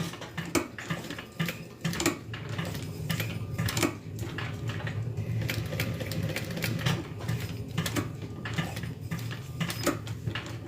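A sewing machine stitches a modified crossbody bag in quick rattling bursts, the needle's rapid mechanical chatter starting and pausing as short runs of stitches are made, fairly close and moderately loud with no talk.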